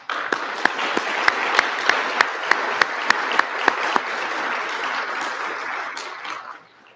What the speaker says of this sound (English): Let's give them all a round of applause right now.